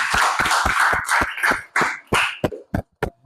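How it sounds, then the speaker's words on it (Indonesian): Students in a classroom clapping after a presentation, a quick run of sharp, fairly close hand claps that start together, then thin out into a few scattered separate claps, with no talking. "tepuk tangan semua"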